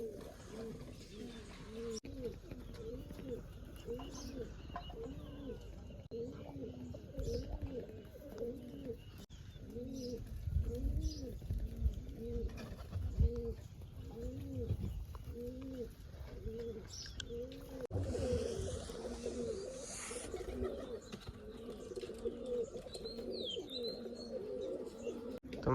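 Domestic pigeons coo repeatedly at a rooftop loft, a steady run of soft, low, rounded calls close by with a few faint chirps mixed in.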